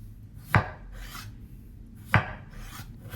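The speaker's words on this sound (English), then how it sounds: "Once they are nice and peeled, I'll go ahead and slice them up." Peeled russet potatoes sliced with a knife on a cutting board, two distinct crisp cuts, each a short sharp chop followed by a brief scraping rub, close and clear with no talking.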